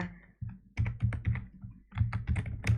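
Fingers typing on a computer keyboard, close and clear, with quick clusters of clacky keystrokes separated by brief pauses.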